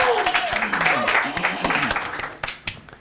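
A game show audience gives a round of applause, with scattered clapping under a host's voice that fades toward the end.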